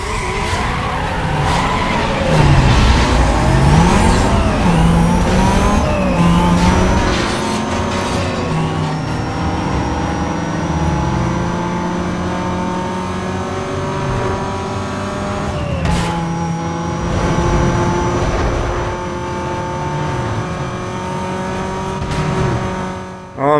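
Race cars in the Need For Speed: Most Wanted video game rev and roar through a drag race, engine pitch climbing and shifting repeatedly with tire skids, loud and continuous for the whole stretch.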